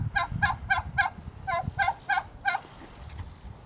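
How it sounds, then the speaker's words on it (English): Turkeys on a farm in Ruckle Park gobble in a fast rattling series, with several close, loud bursts repeating in a steady rhythm over low outdoor rumble and wind. "Slowly back away from the turkeys."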